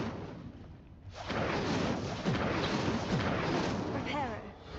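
Incendio fire spell cast in Hogwarts Legacy: after a quieter opening, a sudden loud rushing roar of flame bursts in and holds steady, crackling and rumbling to the end.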